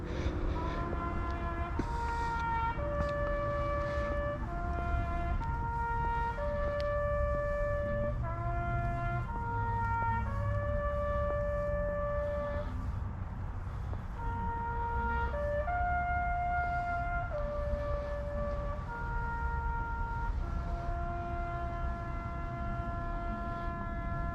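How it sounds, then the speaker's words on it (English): Taps played on a bugle during an illumination ceremony at Gettysburg National Cemetery, slow sustained notes carried over a noisy outdoor crowd background, moderately distant. "That's taps playing in the background"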